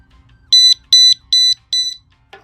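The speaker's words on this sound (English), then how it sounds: "if you go to alarms, then you'll say different modes here and what they sound like" A Free-Fall Data System audible skydiving altimeter sounds an alarm tone: four loud, high-pitched electronic beeps in a steady rhythm, each about a fifth of a second long, followed by a faint short sound.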